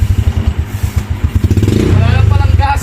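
A Honda Wave motorcycle engine being restored runs close by, with a rapid, loud, even chugging that steadies into a fast idle.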